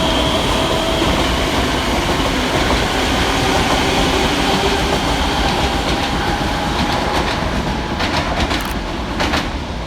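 Coupled ScotRail Class 385 electric trains 385-102 and 385-122 pass loudly close by at Edinburgh Haymarket with a sustained rumbling roar, wheel clatter and a faint whine, easing slightly near the end.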